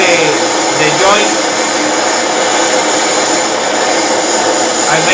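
A torch roars loud and steady at close range while silver soldering the joint between the pipe and tip of a pole spear, with a faint voice underneath.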